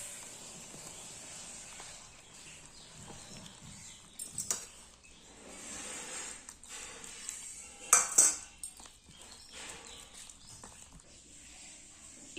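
Loose dosa-like batter is stirred in a bowl, with soft intermittent scraping and clinks of a utensil, a few louder knocks near the end over a quiet background.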